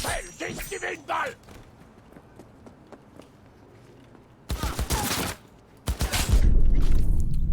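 Gunfire in the video game Cyberpunk comes in loud bursts, one in the middle and a heavier stretch near the end, after a quieter opening with someone speaking.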